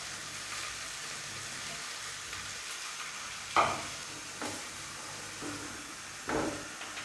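Halved carrots fry in ghee with a soft, continuous background sizzle, broken by a few sharper stirring clatters and scrapes against the pan. No voices are heard.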